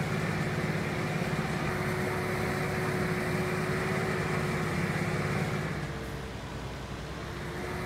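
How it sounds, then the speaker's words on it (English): A Claas tractor engine drones in Farming Simulator 19, a steady low rumble with a faint constant whine, fairly quiet and unbroken, easing slightly lower near the end, with no talking. "Can you hear that tractor?"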